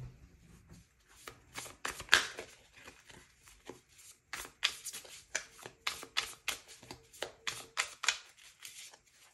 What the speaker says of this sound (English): Let me get some tarot cards for you guys